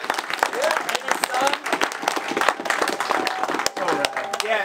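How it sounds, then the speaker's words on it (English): A group of riders on a Thanksgiving ride gives a sustained round of clapping and applause, dense and close, with voices talking and cheering over it throughout. "We gotta give a round of applause to Jordan and Hunter for serving us up"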